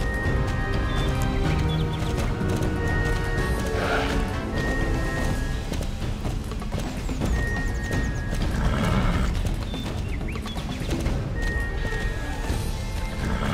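Horse neighing and hooves clip-clopping in the video game Star Stable, a few whinnies rising over a steady rhythmic trot of hoofbeats with game music underneath, sustained and fairly loud.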